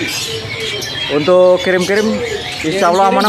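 Caged songbirds, including murai magpie-robins, chirp and coo steadily at a kiosk in Pasar Burung Pramuka, a bird market, while people talk close by over the birds.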